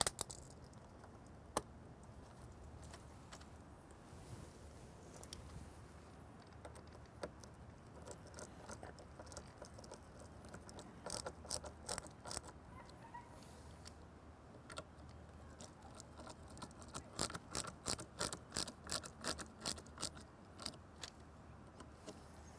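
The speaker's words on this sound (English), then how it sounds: "I'm going to go ahead and tighten the screws here in a cross pattern" A screwdriver cinches down screws on the lens of a Whelen Pioneer Nano Scenelight, giving faint, close clicks and ticks that become quick rhythmic bursts of small metallic taps in the latter half, with no talk.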